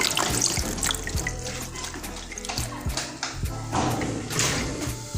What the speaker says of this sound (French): Je vais les nettoyer à grande eau pour éliminer toutes les impuretés.